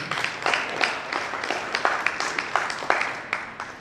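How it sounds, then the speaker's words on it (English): An audience at a business event claps together, a lively and steady patter of many hands that carries through the whole stretch at close range. "Let's clap for him."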